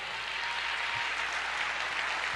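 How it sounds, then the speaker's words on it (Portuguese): Church congregation applauds during a sermon, a steady, dense wash of clapping that fills the room without pause. "Aplauda mais, porque essa é a revelação de Deus para a tua vida."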